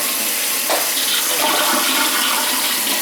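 A running toilet refills with a steady, close hiss of flowing water that carries on evenly throughout, a faulty float set too low keeping the tank running.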